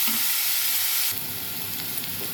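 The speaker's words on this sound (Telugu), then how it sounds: "కొద్దిగా ఎర్రగా వేగనిద్దాం. ఉల్లిపాయ" Onions fry in hot oil in a pan for a taro root and egg tamarind curry, giving a loud, continuous close-up sizzle that eases slightly partway through.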